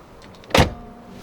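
The garage flap of a 2021 Niesmann Bischoff Flair 920 LW motorhome on an Iveco Daily shuts with a single solid, full-bodied thud, close and loud, after a brief quiet lead-in.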